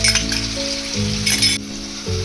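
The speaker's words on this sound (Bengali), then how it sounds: "তেলের মধ্যে পেঁয়াজ বাড়াটা দিয়ে দিলাম" Onion paste sizzles and fries steadily in hot white oil in a wok, a close, continuous crackle with no talking.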